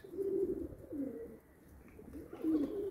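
Pigeons cooing softly at a pigeon loft, in low repeated throaty coos with short pauses, moderately distant and quiet over faint background ambience.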